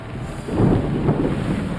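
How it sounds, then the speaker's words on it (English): Thunder in the Assassin's Creed Odyssey video game, a rumbling roll that swells near the start and holds steady through the clip, loud and broad, with rain-like noise mixed in and no voices. "Thunder!"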